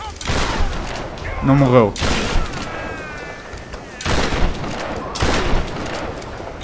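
Bursts of gunfire in the video game Tomb Raider, several loud sharp volleys in quick succession with short gaps, while someone talks excitedly over the shooting.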